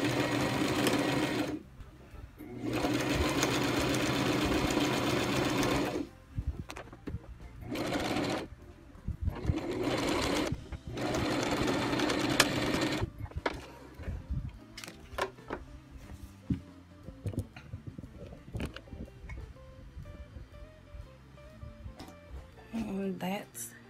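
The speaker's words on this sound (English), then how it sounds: "And just sew a straight line across." A sewing machine stitches a straight line in several bursts of fast, even whirring separated by pauses, followed by quieter handling clicks and rustles of fabric; someone talks over parts of it.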